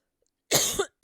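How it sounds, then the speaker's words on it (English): A man gives a single loud, close cough after swallowing his own saliva, and a second cough starts just as the clip ends. "I'm swallowing my own spit here and it's making me cough"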